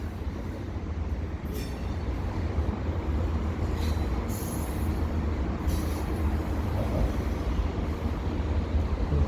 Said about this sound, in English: this is an incredibly slow train